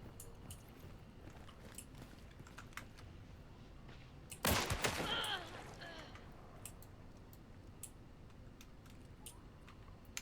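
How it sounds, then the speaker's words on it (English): Gunfire in a multiplayer shooter, players under fire: a short, dense burst of crackling shots around the middle of the clip, fairly close, rising out of a quiet background of faint clicks and ticks. "oh, they're shooting at players."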